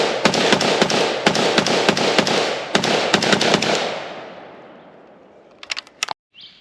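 Gunfire from a CETME-L roller-locked rifle in .223, with a rapid string of loud, close shots echoing outdoors, then fading into reverberation, followed by a few faint clicks near the end.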